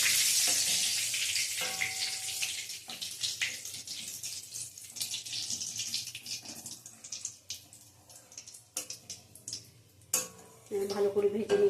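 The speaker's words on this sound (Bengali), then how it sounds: "পাঁচফোড়নটা ভাজা হয়ে গেছে, বেশি পুড়াবো না" Panch phoron spices with dried chilli and bay leaf crackle and sizzle in a pan, a fading hiss mixed with clinks of utensils and a brief splash of running water near the end.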